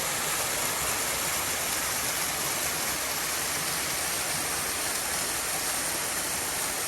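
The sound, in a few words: waterfall on a SoCal hike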